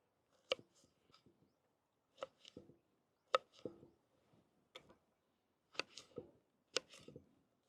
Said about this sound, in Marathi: आपण आता भाजीसाठी वांगे चिरून घेऊ।